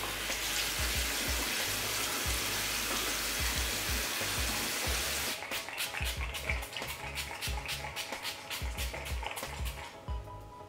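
Running tap water rinses a clay face mask off skin at a sink, a continuous loud splash and hiss that turns into choppier splashing and dabbing in the second half.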